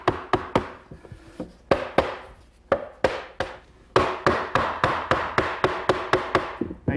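A mallet taps a wooden roll top desk panel and end stile into place with sharp, close wooden knocks, first in scattered pairs and then in a quick steady run of evenly spaced blows.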